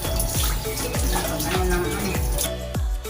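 Water pours steadily over a dog during an at-home bath, a continuous close splashing stream broken by a few soft thuds, with a voice talking over it.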